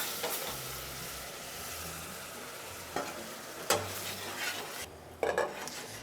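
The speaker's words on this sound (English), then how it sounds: "I'm going to add that to our spices and almost caramelize our honey a bit." Honey caramelizing with spices in a pan, a steady soft sizzle and hiss, with a few sharp clinks of a utensil stirring against the pan.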